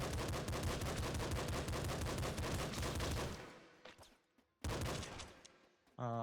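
Rapid automatic gunfire from the video game Nuclear Throne, a loud continuous burst of dense shots that cuts off abruptly, followed by a few scattered shots and then a second short burst.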